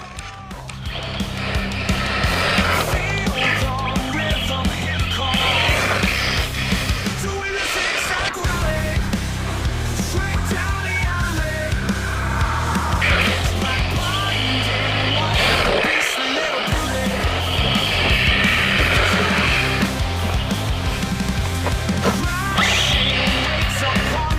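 An Arrma Grom RC car built as a rally car drives over brick rubble with debris jamming its small wheels, a steady loud motor whine and rattling grit with brief dropouts, while people talk over it.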